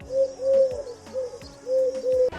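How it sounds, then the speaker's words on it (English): A lone pigeon coos in a few soft, rhythmic phrases, close and clear with no talk. "Well, except there is one right there. Just one lonely pigeon."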